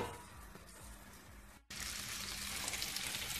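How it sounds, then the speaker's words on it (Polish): Bacon and sausage fry in a pot for żurek soup, giving a steady hissing sizzle of fat that stops briefly and then comes back louder and brighter when the food is stirred or moved. "Podsmażę tutaj na wszystko na złocisty kolor"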